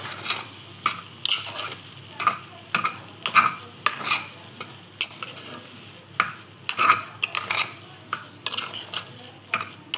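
Pineapple sheera stirred in a pan on a switched-off gas stove, a spoon scraping and clinking against the pan in irregular strokes with a soft sizzle beneath, close and moderately loud, no talking.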